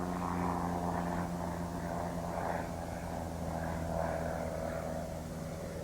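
A propeller airplane performs aerobatic maneuvers, its engine a continuous droning hum with slight swells in pitch and loudness, heard at moderate distance with no voices.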